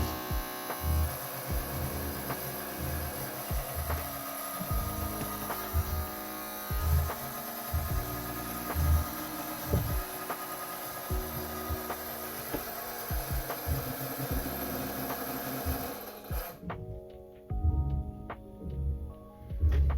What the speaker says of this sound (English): So that was the sound of the fan of this older MSI laptop scratching against the board.